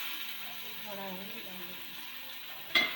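Onion and tomato fry in a pan with a soft, steady sizzle. A voice speaks faintly over it, and a short sharp clink of utensil on pan comes near the end.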